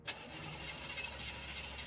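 A car engine cranks but fails to start, a steady, fairly loud grinding whir that runs unbroken for the whole short moment without catching.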